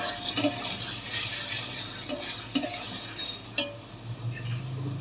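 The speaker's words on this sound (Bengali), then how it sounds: "একটু লঙ্কার গুঁড়ো, ভালো করে নেড়ে মশলাটা ভালো করে কষিয়ে নেবো।" Masala with chili powder sizzling in oil in a pan while being stirred, a steady close frying hiss broken by a few scraping strokes of the spoon.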